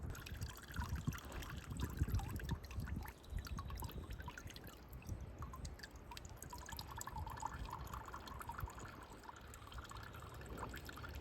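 Water trickles and pours gently onto the soil of a freshly repotted bottle tree seedling, a quiet close dribble with small drips and uneven bursts of flow.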